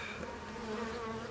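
Honey bees at a hive after a warm winter keep up a steady, dense buzz throughout, a continuous close drone with no talking.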